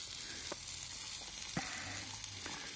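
Faint, steady sizzling of vegetables frying in a pan on a wood gasifier stove outdoors, a continuous crackling hiss with a few soft taps of stirring.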